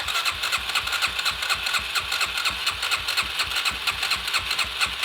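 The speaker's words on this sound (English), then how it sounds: "We got carb cleaned. I mean, it's sputtering. It's trying to fire." A motorcycle engine cranks and sputters, trying to fire after its carburetor was cleaned and fresh fuel added, a steady rapid rhythmic churning that never catches, loud and close with no talk.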